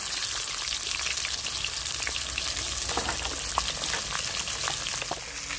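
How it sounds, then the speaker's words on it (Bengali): Catla fish head frying in hot oil in a wok, village-style cooking: a steady, dense sizzle and crackle with scattered sharp pops, constant and close throughout, with no talking. "কাতলা মাছের মাথাটা ভাজার জন্য আমি প্রথমে কড়াইতে তেল দিয়ে দিচ্ছি।"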